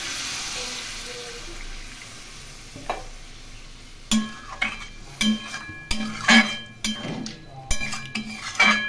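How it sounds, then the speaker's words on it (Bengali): Ground spices and a little sugar are stirred and sautéed in a pan, with a soft sizzle at first, then sharp repeated scrapes and clinks of a spatula against the pan. "এর মধ্যে সামান্য চিনি দিয়ে দিলাম। এখন ভালো করে নেড়ে"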